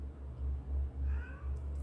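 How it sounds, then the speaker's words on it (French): Domestic cats meow indoors in a few soft, drawn-out calls toward the end, over a low pulsing rumble, fairly faint and with no talking. "les chats, si vous les entendez, ils sont un petit peu tannants"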